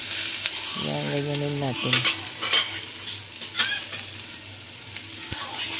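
Garlic and onion fry in hot oil in a pan, a constant close sizzle with scraping stirs, while a voice speaks briefly over it.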